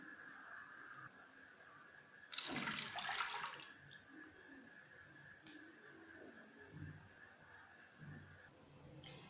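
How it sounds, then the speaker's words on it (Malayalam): Water poured into a bowl while making sugar syrup for a black forest cake, a short bright splashing pour of about a second and a half, near and fairly loud, followed by quieter kitchen room noise. "ബൗൾ വെള്ളം ഒഴിച്ച് കൊടുക്കുകയാണ്."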